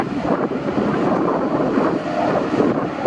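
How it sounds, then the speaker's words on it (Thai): Strong wind buffets the microphone outdoors, a steady loud rush of gusty noise that holds for the whole stretch with no voices. "วันนี้ลมนะ"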